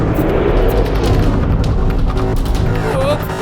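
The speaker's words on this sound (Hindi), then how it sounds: "मैक्स, बड़े धमाके वाला सीन" A big cartoon explosion booms loudly and rolls on as a sustained rumbling blast, with a dubbed voice and music-like tones sounding near the end.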